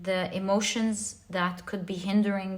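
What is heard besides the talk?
No everyday noise stands out behind the speech.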